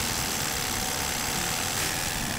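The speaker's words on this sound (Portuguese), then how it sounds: "O barulho de um motor a diesel." Steady, dense rumble of a running diesel engine on a property where trees are being cleared, loud and close with an unbroken drone and no talk.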